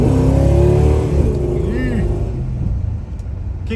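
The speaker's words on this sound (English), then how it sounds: "I don't know what the exhaust is on this, but it sounds really, really good." A 1968 Dodge Charger R/T with a 440 V8 accelerates hard, its exhaust rumbling loudly and rising in pitch before easing off, heard up close from inside the car.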